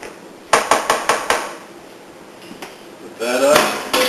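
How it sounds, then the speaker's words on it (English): A spoon stirring beer wort and yeast in a fermenter: a quick run of five hard knocks against the vessel, then a pause with faint clinks, then a swelling swish of liquid being stirred. "I'm going to stir this just a little bit."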